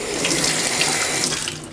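Tap water runs steadily over a small bunch of parsley held under the faucet at the kitchen sink, a loud close splashing rush that stays even throughout with no voices.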